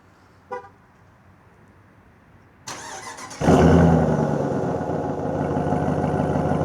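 A short chirp sounds first, then after a pause the 2026 RAM 1500 Hemi V8 with performance exhaust cranks and fires into a loud, deep rumbling idle that holds steady, close by and with no talking.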